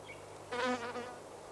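Tiny Halictus bees dart among rock rose and sword-leaved helleborine flowers; a brief, faint buzz swells and fades within about half a second over quiet outdoor background hum.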